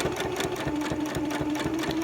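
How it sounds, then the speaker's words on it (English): A sewing machine stitches fabric with the presser foot lowered, running at a steady, fast rhythmic clatter with no pauses, close and fairly loud. "I'm gonna lower my presser foot, and I'm gonna continue sewing."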